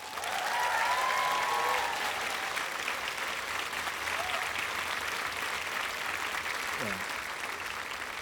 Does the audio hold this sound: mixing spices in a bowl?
no